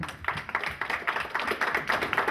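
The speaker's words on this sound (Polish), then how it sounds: "I brawa dla Karoliny." Brief applause for a speed skater at a press conference for the Polish speed skating championships: a short burst of quick, scattered claps from a small room audience, moderately loud and alone.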